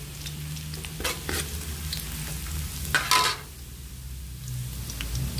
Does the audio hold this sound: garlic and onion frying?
yes